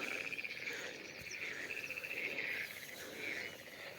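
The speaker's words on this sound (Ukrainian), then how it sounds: "Ви чуєте, як гарно жаби грегають." Frogs croak in a steady pulsing chorus at an outdoor fishing spot, mixed with insect chirring, moderately distant and continuous with no voices.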